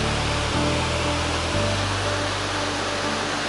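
Large waterfall in the Gorges de Saint Pierre, a loud, constant roar of falling water filling the scene evenly, with no voices.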